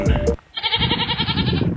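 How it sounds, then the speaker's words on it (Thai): Goats bleating in the wild in a bare Georgian landscape, one loud, wavering bleat close by, with a brief harsher bleat just before it. "แพะพวกนี้ก็เลย อยู่ตามธรรมชาติของเขาครับ"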